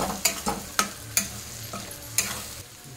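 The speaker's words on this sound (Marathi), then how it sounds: "हे बघा आता आपण याच्यामध्ये ओतूया, चांगलं मिक्स करून घ्यायचं आहे।" Beaten egg poured into a hot pan and stirred for egg rice, with a low frying sizzle under several sharp spatula scrapes and taps spaced irregularly, close and fairly quiet.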